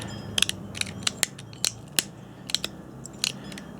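Flint knapping during final edge trimming of a Snyders point: a string of sharp, crisp clicks and snaps from pressure-flaking, unevenly spaced and close, over a low steady background hum.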